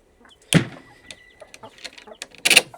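Hens cluck in a coop on a hot day: scattered short clucks and calls, loud bursts near the start and end, close by with no talking.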